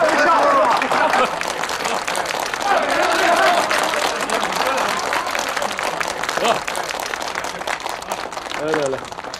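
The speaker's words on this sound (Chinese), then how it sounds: "鼓掌" Crowd of neighbors and passersby applauding outside a newly opened old-style Shandong tavern, a dense steady patter of clapping filling the whole stretch with people talking and calling out over it.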